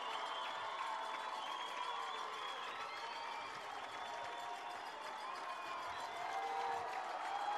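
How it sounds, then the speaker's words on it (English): A crowd at a high school soccer state final roars and cheers continuously in sudden-death overtime, a broad wash of voices and whistles, distant and steady with no distinct clapping. "Ridgeline's crowd, Juan Diego's crowd, getting into it."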